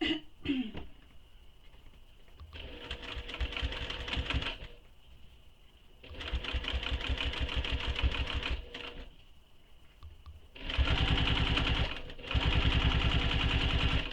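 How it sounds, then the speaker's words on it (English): A sewing machine runs in several bursts while back stitching a seam on a crossbody bag, with quiet gaps between runs and a faint steady hum in the pauses. "So let's get this stitched in place. So starting at the bottom, I'm going to back stitch."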